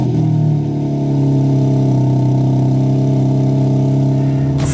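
A 2021 BMW M4 Competition pulls away, its engine drone steady and loud with a strong low hum that dips briefly and then holds as the car gets under way.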